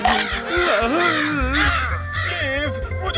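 A crow caws loudly and harshly several times, tangled with a dramatic voice and background music in a comic ghost scene.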